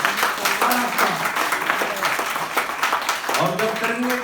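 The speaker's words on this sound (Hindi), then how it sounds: "जोरदार तालियां।" Loud, dense applause from an audience at a live comedy show fills the whole stretch, with voices and cheers mixed into the clapping.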